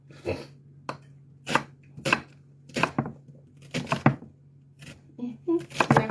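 A knife chops onion on a cutting board in a run of sharp, irregular close strikes against a low steady hum, with pauses between bursts.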